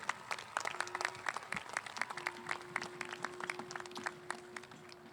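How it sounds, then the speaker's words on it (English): Applause for the graduating class of 2021 scholars at an in-person San Leandro High School graduation ceremony: a crowd's steady, dense clapping from moderately far away, with a faint sustained tone running underneath. "Give our scholars a round of applause."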